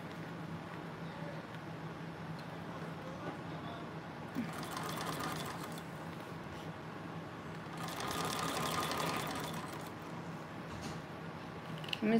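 A Thor GC 1341 industrial sewing machine stitching, a steady mechanical hum with two louder runs of rapid needle clatter as it speeds up, heard up close without talk.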